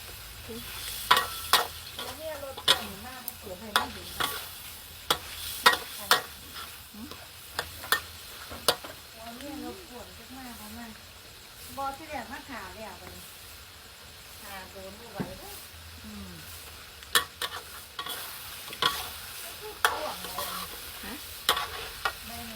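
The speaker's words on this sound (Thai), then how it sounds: "อันนี้กำลังผัดจะสุกเลยด้วยจ้าแซ่บสียบหอมค่ะ" Food being stir-fried in a pan, with repeated sharp scrapes and clacks of a utensil over a steady sizzling hiss, and a voice talking intermittently throughout.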